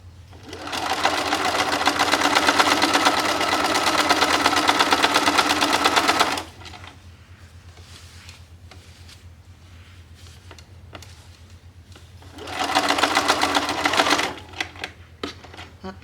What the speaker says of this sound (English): So I'm just going to finish that along the edge of my presser foot.